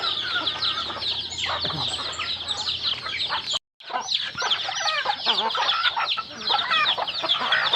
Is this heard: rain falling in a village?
no